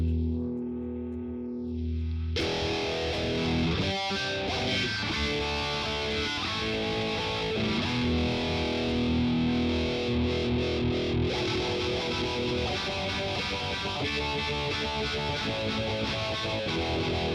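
Electric guitar chords played through a Boss Katana amp set to a distorted, effected patch. After a short quiet intro the chords ring out loud and sustained with a shimmering modulated wash.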